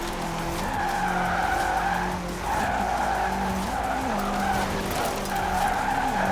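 Tires squeal and skid steadily as a car slides sideways through turns in the racing game Forza Horizon 4, engine droning underneath the continuous screech, loud and close throughout.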